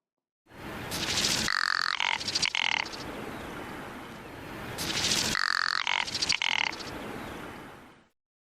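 A frog gives two long guttural calls, each a rough rattling buzz broken into a few throaty pulses, loud and close with no voices.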